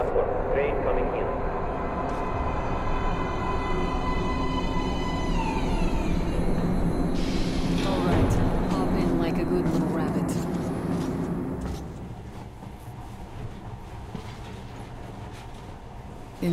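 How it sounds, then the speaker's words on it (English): A train pulls into a metro platform in Metro Last Light Redux with a loud rumbling approach, rising whine and screeching brakes, then settles into a quieter hum, while a person speaks over it. "Please step away from the edge of the platform. Train coming in."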